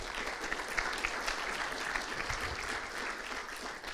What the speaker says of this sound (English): let's say that those claps are also the claps for the conclusion of this talk